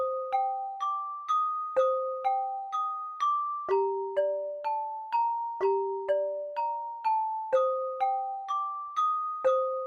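Dry strummed bell one-shots play a steady repeating melodic pattern, bright chiming notes struck in regular rhythm, with some pitches nudged up and down, clear and close with no voices.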